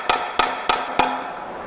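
A hammer strikes a metal tractor part, an Allis being restored, to knock out dents: four sharp, ringing blows at an even pace, close and loud, each leaving a short metallic ring.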